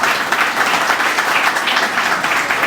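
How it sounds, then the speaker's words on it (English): Audience at a corporate event applauds steadily, a dense, loud wash of many hands clapping that holds evenly throughout with no voices above it. "Give him a round of applause."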